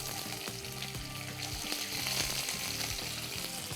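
Chopped onions frying in a pan for kobi paneer, a steady crackling sizzle with light stirring scrapes, close and fairly quiet with no voices.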